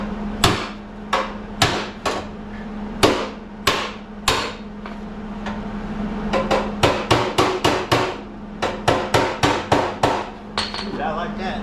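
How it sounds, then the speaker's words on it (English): A hammer pounds the fender of a 1982 Dodge Ramcharger in a shop, with sharp metallic strikes in irregular bursts, some spaced apart and others in quick runs, over a steady low hum. "Hammer this baby in a little bit."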